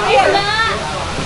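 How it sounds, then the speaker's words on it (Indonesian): A children's pool waterfall pours and splashes close by in a steady wash of falling water, with a voice and other talk over it through the short span. "Air terjun anak"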